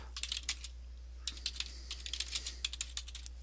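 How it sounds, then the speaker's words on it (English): Someone types on a computer keyboard, producing quick, light, irregular clicks in short bursts over a steady low hum, close and fairly quiet, with no talk. "type in here metadata information for my audit trail"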